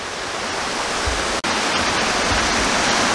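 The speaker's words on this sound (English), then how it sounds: "the water's flowing quite well as well" Steady broadband roar of a waterfall with water flowing well, loud and continuous with no voices, the rushing noise filling the whole clip evenly.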